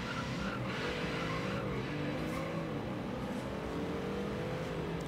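Twin-turbo luxury car engine in Forza Horizon 3 drones steadily and loudly, revving with rising and falling pitch sweeps over continuous road and tire noise.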